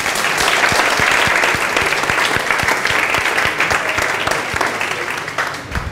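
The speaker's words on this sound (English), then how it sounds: "huge round of applause" Lively audience applause at a lecture, a loud sustained burst of clapping from a large crowd with sharp individual claps standing out, tapering slightly at the close.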